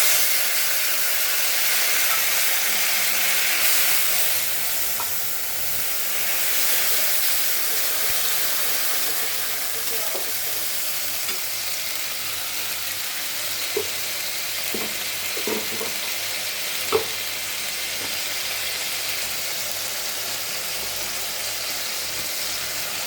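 Ginger, cumin and chili pastes fry in hot oil for a prawn malai curry, giving a steady, even sizzle and hiss throughout, with a few faint stirring taps toward the end.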